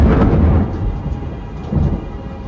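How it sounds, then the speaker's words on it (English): A loud peal of thunder rolls and rumbles deep and close, swelling again near the end, with rain hissing underneath and no voices. "A bolt of white lightning, a great peal of thunder."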